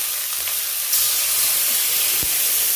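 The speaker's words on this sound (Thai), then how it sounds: "เสร็จแล้วเราใส่น้ำลงไปเลยค่ะ" Water poured into a hot pan of sweet Thai pork, giving a loud, steady hiss of steam and sizzling that runs through the whole clip, with a small clatter near the end.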